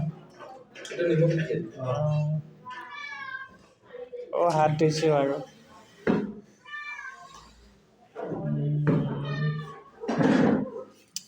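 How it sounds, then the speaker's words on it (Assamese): A hungry cat meows repeatedly, loud and close, with several drawn-out cries interleaved with a person talking. "আমাৰ এইটো মেকুৰী এটা আছে পুৰা মেও মেও কৰি আছে"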